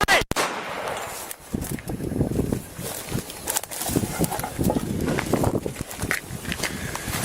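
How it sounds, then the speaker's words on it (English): Police officers firing gunshots during a confrontation with a knife-wielding man, sharp loud bangs amid chaotic scuffling and movement noise, fairly close. "Shots fired."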